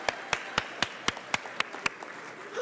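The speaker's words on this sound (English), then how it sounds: "So let's give a round of applause" Scattered audience clapping at a school gala, a run of distinct sharp claps at a steady pace from a small number of hands, fairly faint with room ambience.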